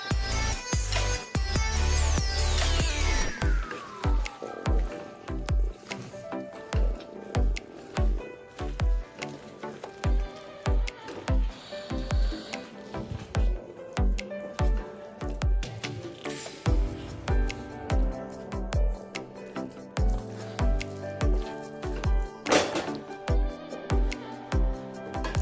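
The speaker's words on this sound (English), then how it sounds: "Again, I will give this a nice stir." A thick pav bhaji masala mixture with added water is stirred in a pan, giving wet squishing and sloshing scrapes in a steady repeated rhythm, close and fairly loud.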